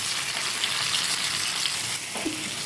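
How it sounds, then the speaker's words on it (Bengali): Washed rice frying in mustard oil with whole garam masala in a pan, a loud close continuous sizzle with a short scrape of stirring near the end and no voices. "ভালো করে এটা ভেজে নেব"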